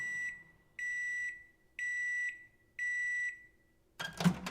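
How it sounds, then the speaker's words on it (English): A kitchen timer, likely a microwave, beeps four times in an even rhythm, each tone lasting about half a second, followed by a brief clatter or door clunk; clear and close, with no speech. "Beeping thankfully broke the silence, and Johnny quickly took out the bowl."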